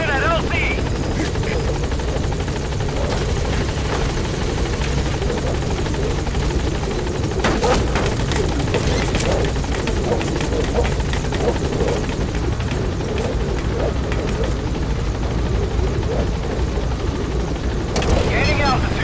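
A helicopter hovers at a landing zone in the video game Metal Gear Solid V, a loud, continuous rotor thrum and engine whine running under radio-style talk.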